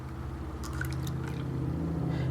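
Milk is poured into a container for a milk and water experiment, a brief soft liquid trickle and gurgle close by over a steady low hum.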